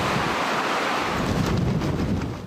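Swell waves crash onto the shore at Heng Fa Chuen in Hong Kong during a typhoon under Signal No. 8, a loud continuous roar of surf mixed with gusting wind noise and no voices.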